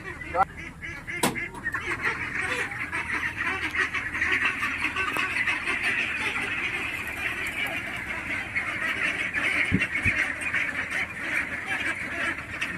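A flock of 46-day-old ducklings quack steadily in a dense, continuous chorus close by, with a few sharp clicks and knocks breaking through now and then.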